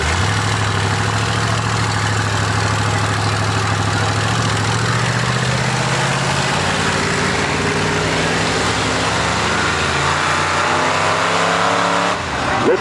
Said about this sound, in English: Shelby in lane number 2 in the white Ford.